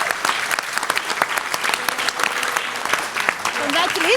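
An audience at a scouting district recognition dinner applauds with dense, sustained clapping that fills the room, with some voices talking and calling out over it.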